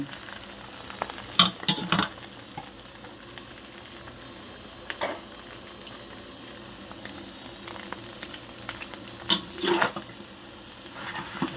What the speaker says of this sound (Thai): ผัดทุกอย่างให้เข้ากัน เดี๋ยวเราจะปรุงอีกทีหนึ่ง